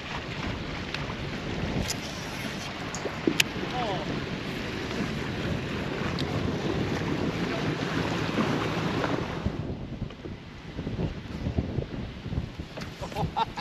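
Steady wind rushes across open tidal water on the South Delta, heard from a fishing boat, with constant roaring buffeting that eases near the end as faint water sounds continue.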